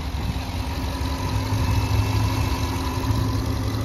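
A Jeep Grand Wagoneer's 6.4 liter engine idles with an even, continuous low rumble and a steady hum, close and uninterrupted throughout, with no voices.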